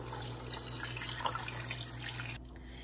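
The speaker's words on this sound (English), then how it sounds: "So just add the water." Water poured into a pot of chicken pulao, a close, steady rushing splash that stops near the end.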